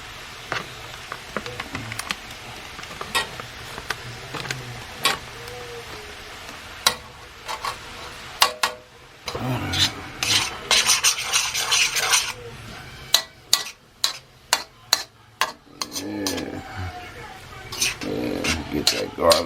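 Garlic and butter sizzle in a pan for fried rice while a utensil scrapes and clanks against the metal in irregular bursts, close and fairly loud, with a voice talking over parts of it.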